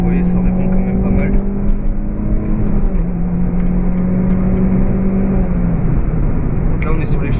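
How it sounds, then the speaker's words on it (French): Renault Clio 3 RS 197 on its stock exhaust, revving with a steady, loud engine drone that holds a low tone and then dips near the end, heard from inside the car. "Donc là, on est sur l'échappement d'origine, ça suffit à faire un petit bruit un peu sympa."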